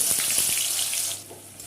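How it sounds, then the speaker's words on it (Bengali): Raw green bananas frying in mustard oil for a Bengali bhoger labra, a steady hissing sizzle up close that eases slightly toward the end, with no talk. "প্রথমে আমি এখানে কাঁচা কলাগুলো ভেজে নেব।"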